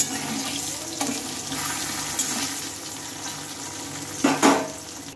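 Fried eggplant pieces come out of hot oil in a wok one by one, a continuous close sizzle broken by soft clatters and a louder splashy burst near the end, with no talking.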